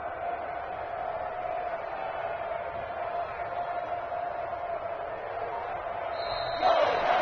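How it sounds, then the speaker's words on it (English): Home crowd in an American football video game on PS4 after a Green Bay victory, a steady broad roar of applause and cheering from a stadium throughout, swelling slightly louder near the end. "And the home crowd applauding."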